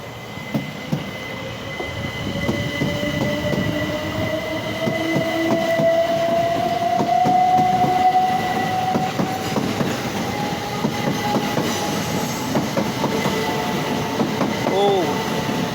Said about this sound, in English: Got triple class 377/5s departing Sevenoaks for Ramsgate via Canterbury Rest.